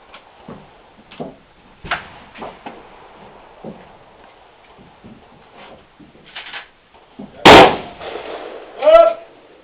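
Shotgun shots at a long rifle shooting match, two sharp loud blasts near the end, preceded by scattered quieter pops, clicks and handling noises, with voices around.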